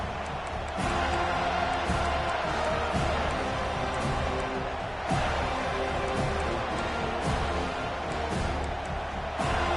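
A large football stadium crowd at an FSU game roars in a steady, dense wash of noise, with a few sharper surges and thumps rising out of the din.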